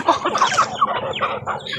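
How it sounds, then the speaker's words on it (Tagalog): Chickens cluck close by in a rural backyard, a busy run of short, overlapping clucks and throaty calls filling the whole moment without pause. "Yung manok rin, nilagyan ko na rin ng tubig."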